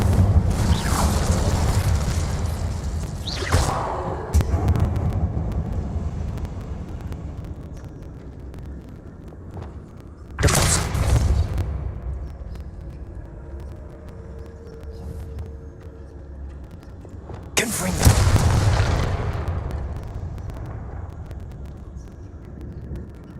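Incendio fire spells go off in Hogwarts Legacy, three heavy booming blasts spaced several seconds apart over a continuous rumbling game background.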